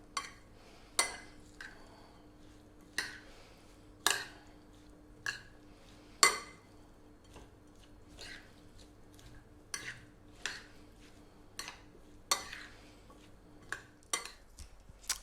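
Spoon and utensils clinking against a bowl while mixing a fresh oregano salad dressed in virgin olive oil, sharp scattered taps and scrapes spread irregularly, close and fairly quiet, no talking.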